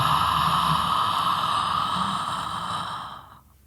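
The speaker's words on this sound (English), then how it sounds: "Let's take a deep cleansing breath in." A single long, deep cleansing breath, steady and close for about three seconds before it fades out, over a soft tonal background hum.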